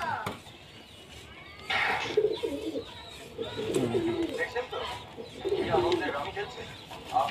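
Giribaj pigeons coo in repeated soft, throaty bursts close by, with short pauses between calls and faint background noise.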